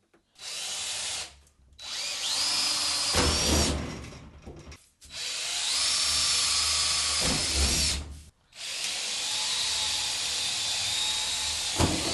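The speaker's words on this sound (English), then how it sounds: "so that I can drill back into them. Hopefully get my plug welds there" A power drill bores holes through rusty car body sheet metal for plug welds, in three sustained high-pitched whining bursts separated by short pauses, loud and close with no talking.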